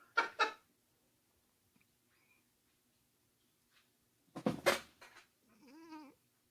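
A cat named Dante gives a few short, close meows separated by long quiet gaps, ending with a drawn-out, wavering cry.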